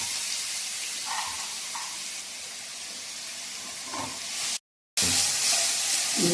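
Crushed onion hitting a hot oiled pan for a Kerala white chickpea curry, giving a steady close sizzle and hiss that runs throughout with a brief cut to silence near the end.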